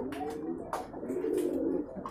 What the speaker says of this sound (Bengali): একদম অরিজিনাল একটা সুন্দর একটা কবুতর